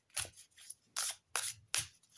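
Large oracle cards being shuffled by hand, giving five short papery riffling bursts at close range with brief pauses between, quiet and with no talking.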